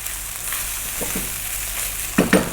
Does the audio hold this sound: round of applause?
no